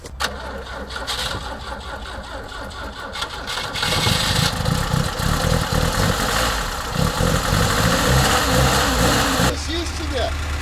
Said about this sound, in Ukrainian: Зараз буде перший запуск і перший дріфт.